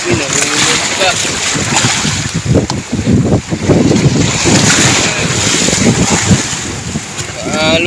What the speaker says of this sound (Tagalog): Ang lalaki din ng alon